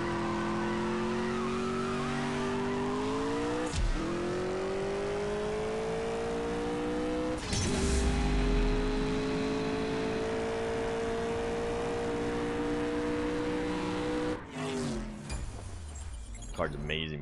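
Ford Mustang Cobra Jet race in CSR Racing 2: a loud game engine revs hard through a series of rising gear shifts, with brief tire squeal, running steadily throughout with a voice talking over it.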